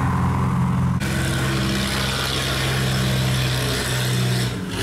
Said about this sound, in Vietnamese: Bây giờ mấy chiếc ghe này đang đi tốc độ rất là cao vô cống các bạn